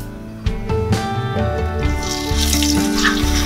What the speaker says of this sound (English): In the same pan I'm going to take around 2 tablespoons of white oil